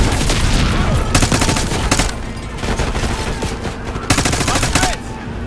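Bursts of rapid automatic gunfire in the Call of Duty Black Ops 6 campaign, loud close volleys in two long clusters with scattered shots between.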